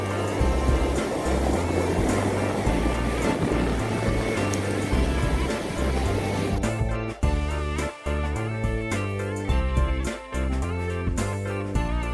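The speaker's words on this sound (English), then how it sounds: "And there's big surf, and I love it." Big ocean surf breaking in a continuous, loud roar, steady broadband wash of waves with a few deeper thumps of heavier breakers near the end, no voices.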